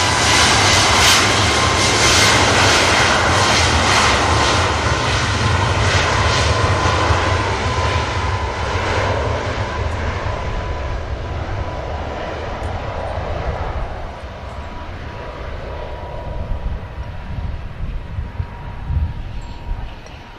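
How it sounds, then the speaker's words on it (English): An Aer Lingus regional aircraft operated by Emerald Airlines departs for Dublin, its engines a loud, steady roar that slowly fades over about twenty seconds with some wind buffeting the microphone. "Also have one of the Aer Lingus operated by Emerald Airlines aircraft heading to Dublin in a moment."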